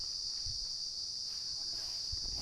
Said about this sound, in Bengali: আর জানি না ক্যামেরায় কতটা ঝিঝি পোকার ডাক শোনা যাচ্ছে